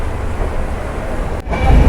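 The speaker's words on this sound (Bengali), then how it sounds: "দুর্গান এক্সপ্রেস এখন প্রবেশ করতেছে হচ্ছে বিমানবন্দর রেলওয়ে স্টেশন" An express train rumbles steadily as it pulls into an airport railway station in Bangladesh, a loud, continuous low roar that swells slightly louder near the end.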